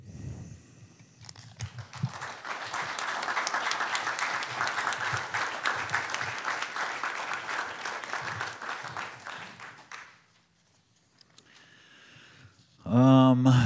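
Audience applause after a poetry reading at an arts center event, a dense steady crowd clapping for several seconds that fades out, followed by a louder burst near the end.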